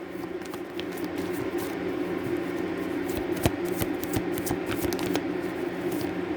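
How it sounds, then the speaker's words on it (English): Tarot cards shuffle close by in a continuous soft riffle with sharp flicks and snaps scattered throughout, over a low steady hum. "Let's pull some tarot cards."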